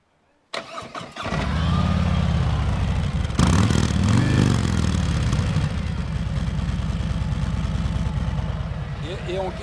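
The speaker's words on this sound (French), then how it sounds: "je vais quand même vous faire écouter le son d'une Harley Davidson d'origine" A stock 2024 Harley-Davidson Road King Special engine cranks and fires up, then settles into a loud, lumpy idle with a deep, uneven throb, close by.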